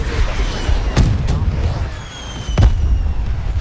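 A bomb explosion in the Black Ops 3 game on the Nuketown map, heard as sharp booming blasts, one near the start and another louder one later, over a constant rumbling game background.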